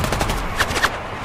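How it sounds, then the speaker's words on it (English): Short, loud burst of machine gun fire in the video game Ultra Strikers, a quick rattle of a few closely spaced shots lasting just over a second. "Metralletas."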